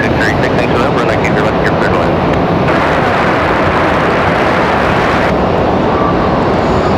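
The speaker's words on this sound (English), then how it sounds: "So the FedEx ATR make their way down to the FedEx terminal" A FedEx ATR turboprop taxis toward the FedEx terminal at Raleigh-Durham airport, a loud, continuous engine roar and whine filling the scene, with a voice talking over it.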